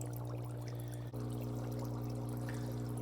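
Hot tap water pours into a portable foot spa massager, a steady, close trickling stream over a constant low electrical hum from the unit.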